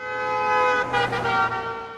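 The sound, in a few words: car horn honking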